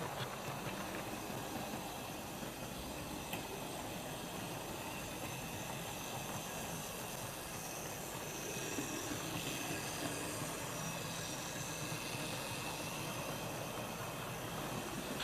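A small G&R Wrenn model locomotive with a vertical motor runs steadily along its track pulling coaches, producing a continuous faint whirring hiss with light rattling, no voices.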